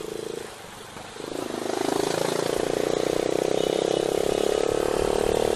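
A Honda TMX 125 motorcycle with a silencer fitted on a bullet pipe runs steadily, its engine note rising after a brief dip and then holding a loud, even drone close by.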